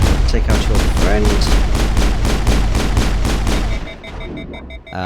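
Rapid sci-fi gunfire in Mass Effect, a dense stream of sharp repeated shots firing loud and close for several seconds before tapering off.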